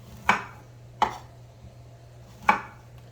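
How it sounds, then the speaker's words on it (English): A knife slices yellow squash into circles on a cutting board, three crisp separate chops spaced about a second apart, close and fairly quiet against a low steady hum. "I just wanted to show you an example of how I cut the squash"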